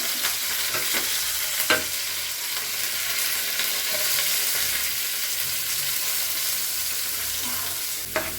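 Mustard seeds and curry leaves sizzle steadily in hot oil, a dense continuous frying hiss with a few sharp pops and crackles near the start and end, close and fairly loud.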